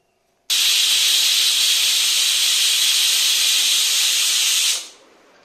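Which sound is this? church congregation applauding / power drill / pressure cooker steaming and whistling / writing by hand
pressure cooker steaming and whistling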